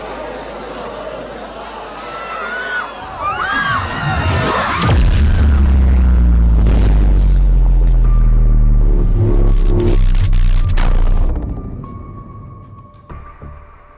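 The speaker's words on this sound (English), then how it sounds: "the bomb that was not supposed to detonate somehow exploded" A bomb detonates in Cyber Manhunt 2, a massive deep blast that swells out of tense warbling ambience and rumbles heavily for several seconds before fading into lingering hum and a few scattered clatters.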